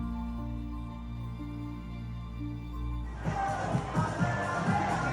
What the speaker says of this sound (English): The crowds in Texas erupt.